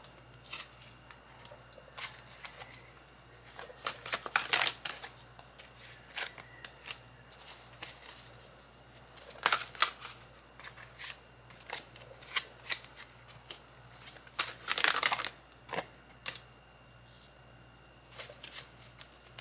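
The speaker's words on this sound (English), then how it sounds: "Just dropped a whole bunch of cards." Tarot cards shuffled by hand, then a whole bunch dropped, giving a close, quiet stream of soft riffles, slaps and papery flutters in irregular bursts with no talking.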